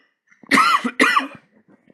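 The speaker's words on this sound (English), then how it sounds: "I just got to cough 1 second" Two loud, harsh coughs in quick succession, close to the listener, followed by quiet breathing.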